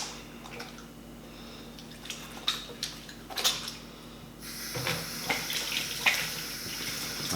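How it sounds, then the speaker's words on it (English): Tap water trickles and splashes into a sink as hands are washed, quiet at first with scattered drips, then a steadier, louder stream in the second half. "I might just wash my hands quickly as well"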